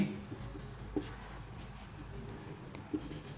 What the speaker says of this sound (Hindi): एक स्टेटमेंट लिखता हूं मैं